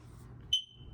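A combined smoke and carbon monoxide detector lets out one short, faint high electronic chirp over a low room hum.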